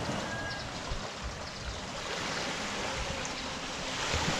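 Sea waves surge directly below a retaining wall at the shore, a continuous loud hissing wash of surf with low rumbling swells and some wind, no one speaking.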